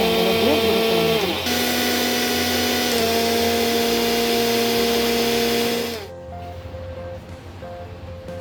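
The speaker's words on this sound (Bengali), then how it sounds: "ঠান্ডা করে নেওয়ার পরে তারপরে মিক্সার গ্রাইন্ডারে দিয়ে গুঁড়ো করে নেবেন।" A mixer grinder pulverises cooled, dry-roasted rice into powder with a loud, steady motor whine that shifts pitch a couple of times, then cuts off near the end, leaving a quiet room.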